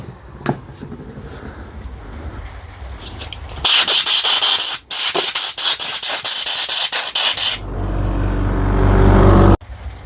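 A loud, close blast of compressed air hisses into the switch of a Makita impact wrench, rough and rushing in pulsed bursts for several seconds, then turning steadier before cutting off abruptly, after quieter handling clicks.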